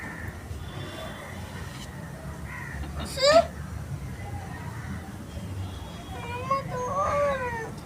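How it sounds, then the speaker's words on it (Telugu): Cat meowing in a family home, a couple of short rising meows and a longer wavering cry over low background noise, with faint voices nearby. "పిల్లి నువ్వు వెళ్ళిపో"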